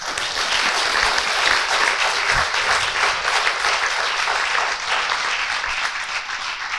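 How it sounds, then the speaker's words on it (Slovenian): An audience applauds at the Slovenian Medical Chamber's award ceremony: dense, sustained clapping from a large hall, steady and fairly loud for nearly seven seconds. "Prosim še enkrat aplavz."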